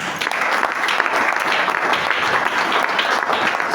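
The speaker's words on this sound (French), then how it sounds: "Acclame très fort le Seigneur." A church congregation applauding loudly in praise, a dense, steady wash of many hands clapping throughout with no break.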